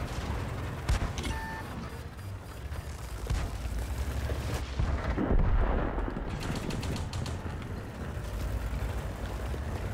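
Gunfire and heavy blasts boom in a World of Tanks battle, with a dense rattle of rapid shots and several deep explosive thuds, loud and continuous across the scene without speech.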